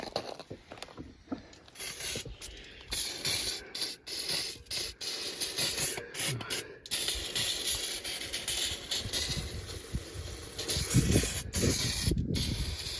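A small hose spraying air into a Kenworth K144 truck front wheel hub during bearing replacement, close hissing bursts with brief gaps, mixed with light metallic clicks and rattles, no talk.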